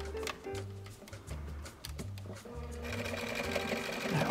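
A home sewing machine stitches a zigzag stitch on pillow fabric, its steady rhythmic whirring and ticking running in short bursts that stop and start, with a soft voice underneath.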